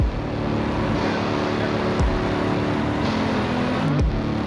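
A 1985 AG-CHEM TerraGator engine rumbles loudly and steadily as the machine drives, with clunks and shifts in its deep tone, heard close up.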